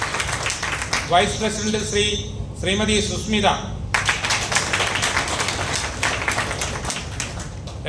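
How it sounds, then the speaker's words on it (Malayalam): At a Puducherry State Guide Sangh office-bearers' ceremony, the audience breaks into sustained clapping, with dense, even applause that begins partway through and runs to the end. Someone speaks over the microphone before the applause starts. "എല്ലാവരും നല്ല കയ്യടി കൊടുക്കുക"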